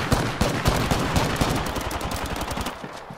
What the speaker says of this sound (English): Fam, why are you shooting me on the floor?